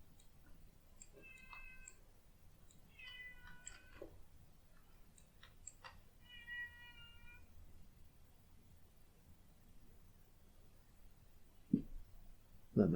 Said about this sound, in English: Let my cat meow.